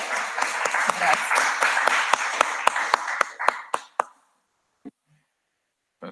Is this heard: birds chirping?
no